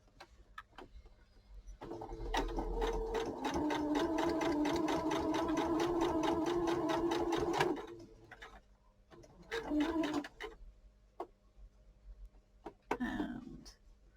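A sewing machine stitches a cushion cover with a close, steady rapid whir lasting several seconds, then a few short bursts of back stitching.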